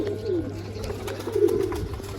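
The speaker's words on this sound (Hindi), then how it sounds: "वो जा रहा है काला कबूतर" A black pigeon coos softly and repeatedly nearby, low and throaty, over faint background noise.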